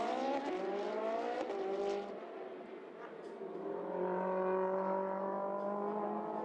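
Race cars in a Trofeo Pirelli race at Mugello circuit, engines revving and shifting through gears as they pass at a steady high pitch, fairly loud and continuous with a brief dip before climbing again.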